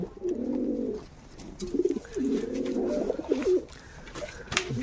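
Pigeons settled on eggs in a home loft coo close by in low, rolling phrases that come in two or three stretches with short pauses, alone and without talk.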